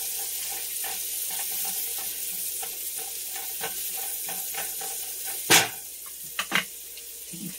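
Chicken stew bubbling and sizzling in a pot while a spoon stirs it, with scraping strokes and a few louder knocks against the pot's side.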